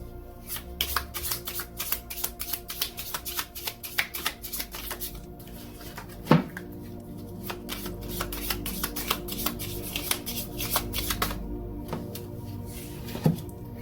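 Tarot or oracle cards are shuffled by hand close up, a long run of quick riffling flutters and soft slaps in repeated bursts, with a couple of sharper knocks and no voices.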